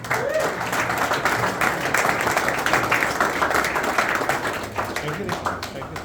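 Audience applause at a stage ceremony during a Sankranthi event, sustained clapping from a crowd lasting several seconds, loud and steady, with someone talking over it.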